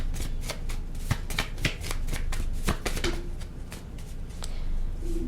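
A tarot deck is shuffled close up, the cards riffling and slapping in a quick, irregular series of soft snaps over several seconds with no speech.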